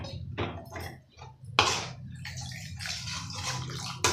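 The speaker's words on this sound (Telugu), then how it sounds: "కొంచెం వాటర్ కూడా వేసుకోవాలండి." Water is poured into a pan of dhaba-style egg masala curry during cooking, giving irregular splashing and trickling bursts with brief pauses, close and fairly quiet, with no talk over it.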